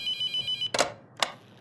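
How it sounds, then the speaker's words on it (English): A telephone rings in a horror video game with a steady electronic ringtone pulsing in short even bursts. Two sharp clicks or knocks follow as the ringing cuts off, and nobody speaks. "Don't answer the phone. You know what? No, we're gonna answer the phone this time."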